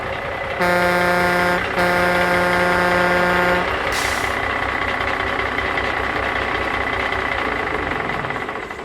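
An 18-wheeler truck sounds a long, loud horn blast in two bursts, then its heavy engine rumbles on steadily up close.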